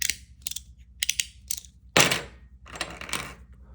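A peanut slider magnetic fidget toy clicks in sharp, close snaps, about eight crisp clacks in an uneven rhythm, with quiet gaps between them.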